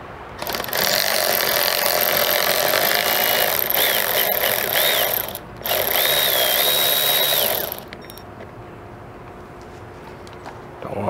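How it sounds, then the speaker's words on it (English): A power drill grinds loudly in two bursts, pausing briefly between them, with the motor pitch wavering as it drills out metal rivets on a 2005-2014 Ford Mustang convertible top, then stops. "I'm gonna have to drill out or knock out with a punch."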